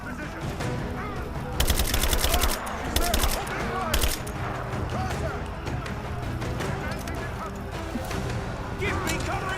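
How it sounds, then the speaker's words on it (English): Gunfire in Rise of the Tomb Raider, bursts of rapid shots clustered in the first few seconds and again later, mixed with game action noise and voices calling out. "gonna use my guns for this because there's so many of them here."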